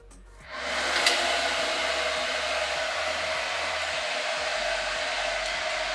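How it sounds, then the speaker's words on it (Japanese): A hair dryer on a gentle, low airflow setting blows onto the roots of lifted hair sections to build volume, switching on with a soft click and then holding a steady, close whooshing hum with no talk. "この状態でさっきのドライヤーを当てていきます。"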